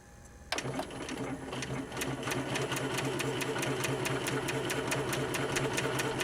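A Spiegel 60609 sewing machine runs a straight stitch along a hem. A click starts it, then a steady, fast, even mechanical chatter follows, close and continuous.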